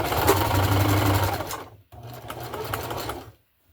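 Sewing machine running a zigzag stitch through thick wool sweater fabric, a steady close mechanical whir for about a second and a half, a brief pause, then another run of stitching before stopping.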